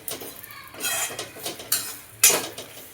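Dry coconut being roasted in a pan for veg Kolhapuri masala, heard as irregular scraping and clinking of a spatula against the pan, with a few sharper knocks near the end.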